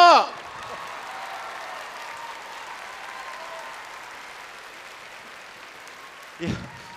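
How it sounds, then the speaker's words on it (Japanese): Audience at a convention celebrity stage event at Osaka Comic Con 2024 gives a big round of applause, a sustained, even wash of clapping across the hall that fades slightly near the end, with a brief voice at the start and another near the end. "皆さん大きな拍手を。"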